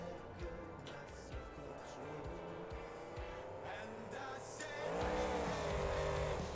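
An Overkill Evolution monster truck engine in BeamNG.drive, a quiet engine drone with shifting pitch and short rising revs, swelling louder into a stronger rev toward the end.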